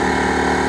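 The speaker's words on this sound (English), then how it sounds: "I've got an engine running to keep the batteries topped up," An engine runs steadily aboard a boat to charge its batteries, a loud continuous droning hum with a constant rumble, close and without pauses.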